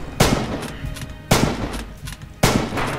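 Three sharp, loud gunshots in Red Orchestra 2, a WWII Stalingrad shooter, each a sudden crack followed by a rolling echoing decay, spaced about a second apart.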